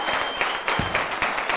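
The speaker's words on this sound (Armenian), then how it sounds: "ծափարություններ" A game-show studio audience gives a short burst of applause, a quick patter of many hands clapping at moderate volume.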